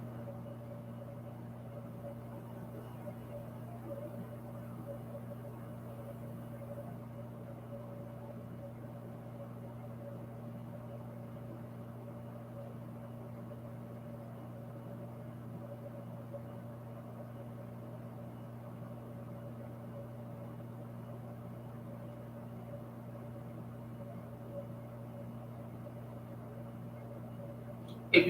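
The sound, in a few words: air conditioner running in energy save mode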